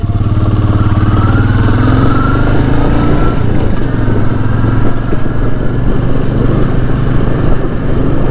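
Royal Enfield Meteor 350 motorcycle at a dam viewpoint, its single-cylinder engine running close and loud with a steady low thumping rumble and some clatter, continuous throughout with no voices.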